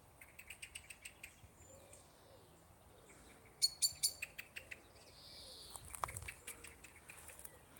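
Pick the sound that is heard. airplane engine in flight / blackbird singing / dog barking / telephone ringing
blackbird singing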